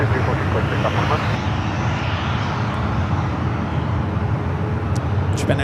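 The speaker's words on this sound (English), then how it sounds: "Japan Airlines, Dreamliner heading back to Tokyo, yeah, Narita." A Japan Airlines Boeing 787 Dreamliner bound for Tokyo Narita at San Francisco airport gives off a loud, steady, broad jet roar for the whole stretch, with no clear rise or fall.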